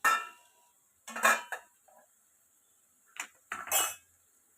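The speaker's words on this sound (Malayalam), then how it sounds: "ഇനി നമുക്ക് മൂടി ഒന്ന് തുറന്ന് നോക്കാം" A metal lid comes off a cooking pot of tomato and onion masala for a Kerala chicken roast, with two short bursts of clattering, clinking metal close by.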